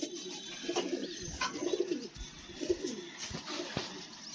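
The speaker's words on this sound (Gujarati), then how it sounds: "એના ઉપર કબૂતર બેસે છે" Pigeons coo close by from a wooden perch stick in a home pigeon coop, giving several soft, throaty rolling calls in a steady rhythm with no talk.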